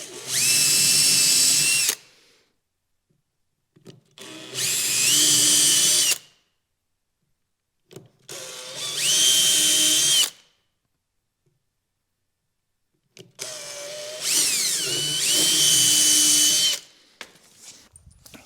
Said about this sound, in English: Actually, I think I'm going to mark them and then drill them.